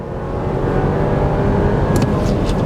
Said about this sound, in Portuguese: Ó, tem o Launch Control. Bem mais quente a saída, né?